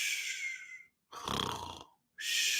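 A person's voice mimics a stereotypical snore with a single rasping, throaty inhale between two short hissy breaths, close and fairly quiet.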